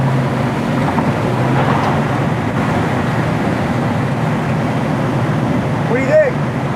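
A 1969 Ford Mustang restomod with a six-speed cruises at about 80 mph and 2000 RPM, giving a steady, continuous drone of engine and road noise with occupants talking over it.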